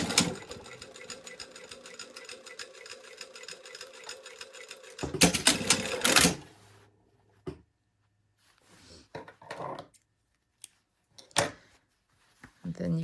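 A sewing machine stitches jeans fabric in a fast, steady whir for about five seconds, then a brief louder burst. Quieter handling noises and pauses follow, with someone talking intermittently over the work.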